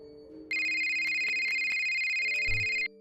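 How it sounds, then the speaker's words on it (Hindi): A mobile phone rings with a bright, steady electronic ringtone that starts abruptly and holds loud for over two seconds before cutting off, over a low background hum. "तभी सिमी का मोबाइल बज उठा।"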